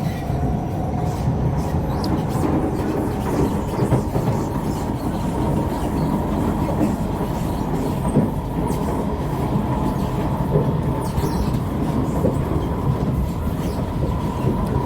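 A Downtown Line MRT train near Tampines station runs steadily with a constant rumbling roar and faint rhythmic clatter of wheels, a sustained hum lasting throughout.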